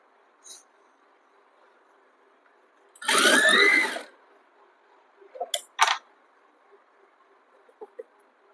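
Sewing machine stitching two layers of kurti cloth together: one steady whirring burst of about a second, then a few short clicks and taps from the machine, with long near-silent gaps around them.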